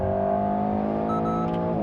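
An Alpine A110 engine holds a high-revving, steady harmonic drone near the top of its rev range, loud and continuous from inside the car.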